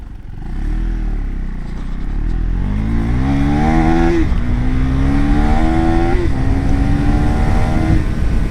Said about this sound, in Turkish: Egzoz patlatıyor lan çok güzel bu arada.